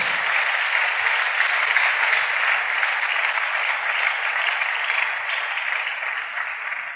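A church congregation applauds steadily and densely for several seconds, a sustained wash of many hands clapping that fades slightly toward the end, with no talking.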